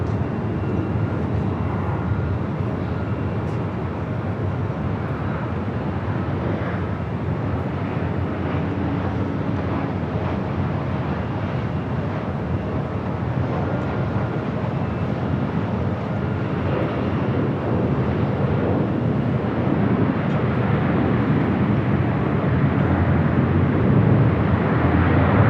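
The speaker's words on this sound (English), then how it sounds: "a 777-300ER starting its taxi" A Boeing 777-300ER jet airliner taxiing at Los Angeles International Airport produces a continuous low engine roar and rumble, steady and moderately distant, mixed with wind noise on the microphone and no talking.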